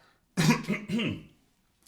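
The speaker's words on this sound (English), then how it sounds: "Yes, I'm coughing." A short burst of dry coughing, two or three harsh coughs close together, near and fairly loud, followed by quiet.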